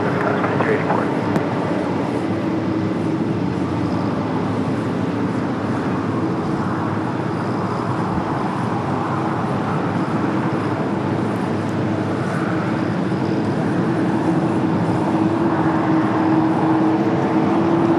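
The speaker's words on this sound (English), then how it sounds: "Flight 601, 787-10 Dreamliner coming up from Amsterdam." A KLM Boeing 787-10 Dreamliner from Amsterdam arriving at LAX, a steady roar from the distant engines running the whole time beneath someone talking.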